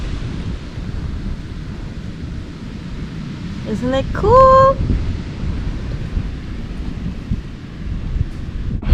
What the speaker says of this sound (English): Super windy. I'm sorry for the wind